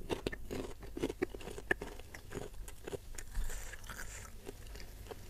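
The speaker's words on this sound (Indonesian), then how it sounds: "Pakai kerupuk biar enak makannya." Crunchy kerupuk crackers eaten alongside spicy mercon beef: close, crisp bites and crackly chewing in an uneven run of sharp crunches, with no talking.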